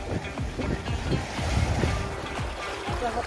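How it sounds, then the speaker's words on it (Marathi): Ocean waves surge and crash close by on a rocky shore, a steady roaring wash with rising swells and wind buffeting the microphone throughout. "लाटा आवाज कसला आहे ते खतरनाक"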